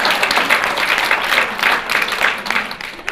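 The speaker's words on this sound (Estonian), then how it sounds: "Suur aplaus!" An audience at a forum theatre performance in Tartu applauds, a dense sustained wash of many hands clapping that swells and ebbs slightly, loud and fairly close, with no voices on top.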